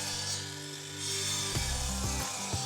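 A saw cuts an angle across a wooden rafter, a few short rasping strokes near the end following a quieter steady hum, heard close and alone.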